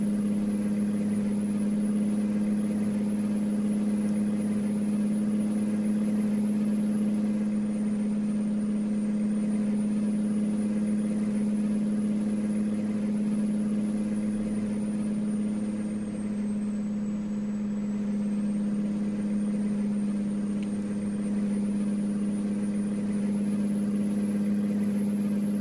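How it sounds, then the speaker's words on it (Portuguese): A Kenworth W900L truck engine idles in American Truck Simulator, a steady low droning hum with a constant pitch, holding evenly for the whole stretch with no talk. "bora curtir o som desse caminhão"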